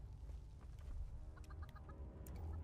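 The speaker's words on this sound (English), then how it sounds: "There's a chicken." A chicken in the Fallout 76 video game gives a few quiet, scattered clucks and squawks over a low, rumbling ambient background, with no voices.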